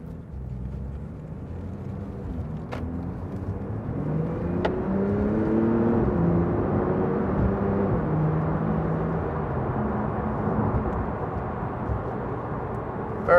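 A yellow Porsche 911 Carrera S accelerates harder on a road, heard from inside as a rising engine note that climbs through gears over steady road rumble, moderately loud with no speech.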